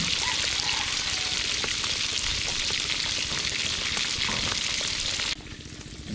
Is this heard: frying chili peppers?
yes